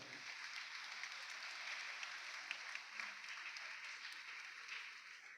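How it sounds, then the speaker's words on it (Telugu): An audience at a church feast celebration breaks into sustained applause, a dense, even patter of many hands clapping from a moderate distance, fairly faint overall. "చప్పట్లు కూడా అభినందిద్దాం వారిని"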